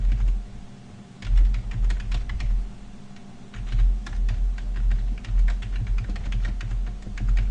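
Code being typed on a computer keyboard produces rapid, irregular key clatter close up, sitting over a steady low hum and continuing without pause through the whole stretch.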